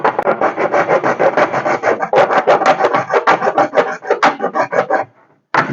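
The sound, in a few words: hacksaw blade cutting a plastic tube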